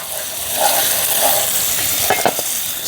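Curry ackee simmers and sizzles in a pot, a steady close bubbling hiss with a few light clinks of a utensil near the end.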